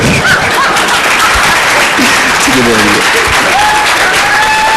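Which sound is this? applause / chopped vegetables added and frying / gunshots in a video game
applause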